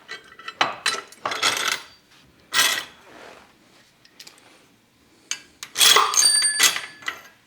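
A threaded steel rod from a motorcycle crash cage install drops out and strikes metal, giving several bright metallic clinks and rattles spread over a few seconds, close by and with no talk.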